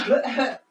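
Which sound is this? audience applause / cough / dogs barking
cough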